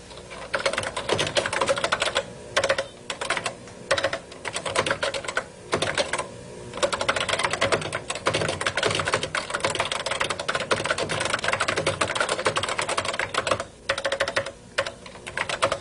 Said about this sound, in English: Let me just click over here and continue typing at this point right here.